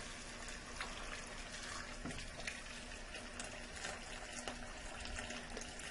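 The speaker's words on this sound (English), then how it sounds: "now we're going to add some water, just enough to cover the chicken" Water pours steadily into a pot over pieces of chicken, a faint, continuous splashing rush with no voices.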